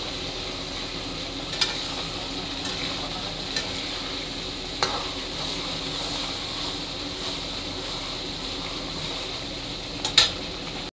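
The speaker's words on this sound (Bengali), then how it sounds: "এটা আমি ভালো করে কষিয়ে নিচ্ছি" Spice paste and onions being sautéed (kashano) in a pan for a mushroom dish: a steady, even sizzle with a few light clicks of stirring breaking through now and then.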